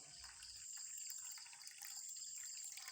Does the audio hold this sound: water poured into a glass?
yes